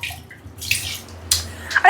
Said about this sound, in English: So now I'm gonna add in some more water